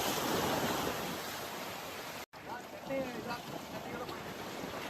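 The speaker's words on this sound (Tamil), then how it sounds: "இந்த அலையெல்லாம் மாட்டினீங்கன்னா அவ்வளோதான்," Ocean waves wash and break at Cuddalore harbour as a broad, steady roar of surf close by, with someone talking over it.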